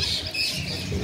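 Peafowl squawk harshly while fighting at a wildlife park, short rough calls set against a steady bed of outdoor noise.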